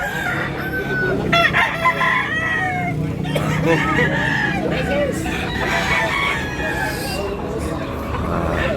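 Roosters crowing and hens clucking at a busy poultry market in Tabunok, Cebu, several birds calling in overlapping bursts amid crowd chatter and nearby voices.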